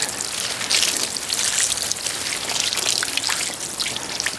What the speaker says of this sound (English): I'll just hose it off.